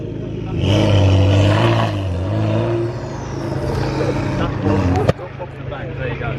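A turbocharged car with IHI turbo and straight-through exhaust roars loudly close by, a harsh rising engine note that drops off abruptly with a sharp crack near the end, amid people talking.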